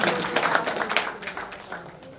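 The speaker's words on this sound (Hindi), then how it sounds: "जोरदार तालियों के साथ अभिनंदन करें" Audience applause at an award ceremony for the 41st student art exhibition inauguration: scattered, moderately faint claps that thin out and fade over a couple of seconds.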